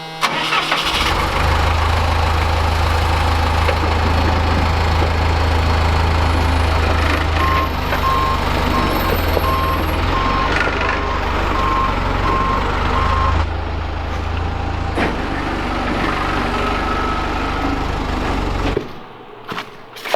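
A forklift engine runs steadily at a construction site for a self-built house, with a loud, continuous low rumble. A repeating reverse-alarm beep sounds through the middle, and the engine cuts off near the end.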